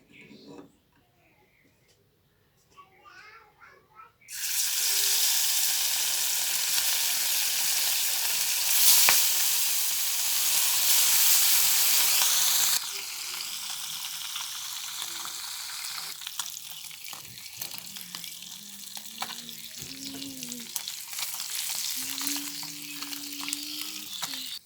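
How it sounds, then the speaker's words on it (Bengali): Fish frying in oil in a wok, a loud broadband sizzle that bursts in suddenly and holds steady, then drops to a softer crackle with a faint voice-like tone over it. "আজকে আমি মাছ ভাজি করব। কড়াইতে তেল দিয়েছি"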